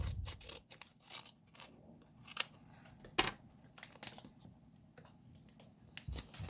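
Scissors snip open a small plastic Toca Life World toy package, a few sharp close cuts and crinkles spaced out over quiet moments, with no talking.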